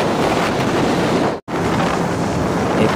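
Steady, loud wind roar buffets the microphone of a motorcycle ridden as a passenger in Bohol, continuous throughout with one brief dropout near the middle; no talking.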